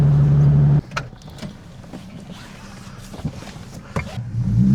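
A car converted to a manual transmission idles loudly, then drops to a quieter low engine rumble, with mechanical clunks and shifting noises before the engine note rises again near the end.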